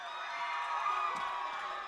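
A high school football crowd at Leuzinger cheers for the drill team, a steady wash of many voices with scattered whoops and shouts.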